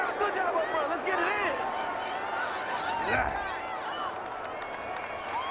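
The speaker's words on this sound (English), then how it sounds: "this crowd does not like that call" A virtual stadium crowd at a Madden NFL 21 Vikings vs Steelers exhibition game reacts to a penalty call with a steady, loud roar of jeers and whistles that continues without a break.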